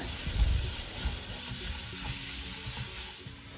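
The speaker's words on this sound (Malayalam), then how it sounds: "ഈ സെയിം പാനിലേക്ക് തന്നെ നമ്മൾ കട്ട് ചെയ്ത് വെച്ചിട്ടുള്ള സവാളയും ചേർത്ത് കൊടുത്ത് നന്നായിട്ട് വഴറ്റിയെടുക്കുകയാണ്." Sliced onions sauté in the same pan used for roasting dried shark, a close crackling sizzle with soft stirring thumps, brief and without voices.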